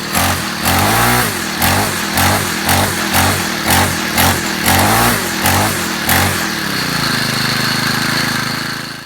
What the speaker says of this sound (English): I got my weed whacker running and cutting, ready to use for the season.